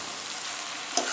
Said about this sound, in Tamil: ஃபோர்க் எடுத்துகிட்டு ஃபோர்க் வச்சு இந்த மாதிரி கலந்து விட்டுக்கோங்க.